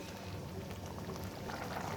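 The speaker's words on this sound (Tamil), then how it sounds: "நல்லா கொதிக்க ஆரம்பிச்சிருக்கு. கொதித்து நல்லாவே சுண்ட ஆரம்பிச்சிருக்கு." A pot of chana masala bubbles at a steady boil, a faint, continuous simmering crackle with no talk over it.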